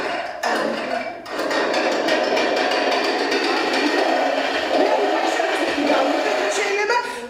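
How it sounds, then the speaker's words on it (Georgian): A chainsaw recording plays aloud in a classroom: a loud, continuous, gritty mechanical roar with a rapid rattling texture, sustained throughout after a brief dip near the start. "აბა ჯაჭვური ხერხი განსაკუთრებით შემოდგომაზე ჩართეთ თუ შეიძლება ჯაჭვური ხერხი."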